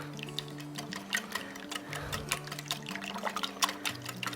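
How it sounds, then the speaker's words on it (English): A whisk beats thick buttermilk batter for corn dogs in a bowl, giving a quick, steady run of rhythmic clicks and wet taps, close and fairly loud with no talking. "Now let's whisk it all together."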